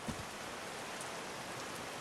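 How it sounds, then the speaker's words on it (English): Steady rain falls in the video game Call of the Sea, a soft continuous hiss of drops on surfaces with no distinct splashes, fairly quiet and even throughout. "These drops of rain are so refreshing."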